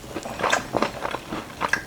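Crisp bites and crunching into a blueberry maple cake donut, several close crunchy bites spaced through the moment with brief chewing between them.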